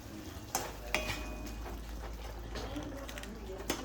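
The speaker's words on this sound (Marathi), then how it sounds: "याच्यामध्ये मी बटर टाकत आहे" Butter hits a hot frying pan while making a pasta sauce in a home kitchen, giving a faint, steady sizzle with light stirring and utensil clinks against the pan.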